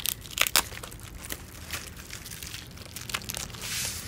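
Crinkly packaging around mail-order notebooks is unwrapped up close, giving loud bursts of plastic crackling and rustling, a couple of sharp crinkles early, then continuous softer handling and tearing, with no voices.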